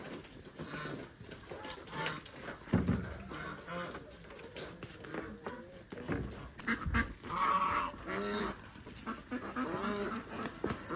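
Captured farm ducks kept alongside geese, quacking in short raspy bursts at close range, with other calls and handling noise scattered around and some voices nearby.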